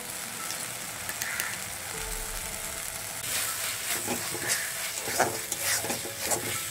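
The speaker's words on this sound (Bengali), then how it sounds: "খুব ভালো করে আমি মশলাগুলোকে কষিয়ে নেব" Spice paste with ground cashew paste fries and is stirred in a pan, a steady close sizzle with scraping strokes that grow busier partway through, no talking.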